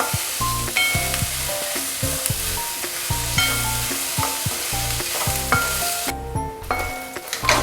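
Onion frying in a pan with garlic ginger paste for paneer bhurji, a steady loud sizzle with repeated scraping stir strokes throughout, no talking.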